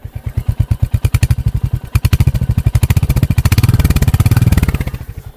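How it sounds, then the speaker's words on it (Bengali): Royal Enfield exhaust thumping at idle, then light throttle brings the beats faster and louder toward about 1000 rpm before they ease back down, close and without talk. "1000 আরপিএম পর্যন্ত থ্রটল দিচ্ছি।"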